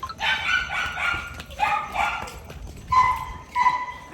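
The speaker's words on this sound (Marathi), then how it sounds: "आमचे डॉगी भुंकत आहेत" Pet dogs barking at home at night, a series of sharp, close barks and yips in quick bursts with short pauses between them.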